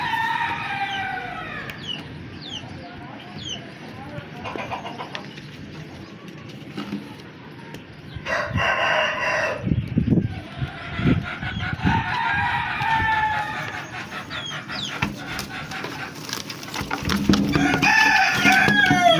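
Chickens clucking and a rooster crowing in a farmyard, with scattered squawks and rustling over a low background hum; a lice-infested hen is being handled.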